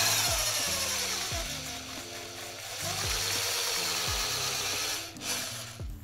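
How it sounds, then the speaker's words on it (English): Reamer working a foam fishing-rod grip out to size, repeated grinding strokes with ratcheting clicks in a steady rhythm, fairly quiet and close, with no talk. "So we've reamed it now to size."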